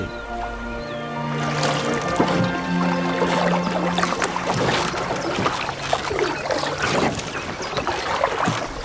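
A cartoon boat moving across water: a continuous, loud rushing wash of water and motion noise with faint tonal hums underneath, steady throughout.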